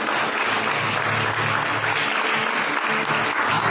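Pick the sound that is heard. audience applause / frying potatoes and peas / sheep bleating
audience applause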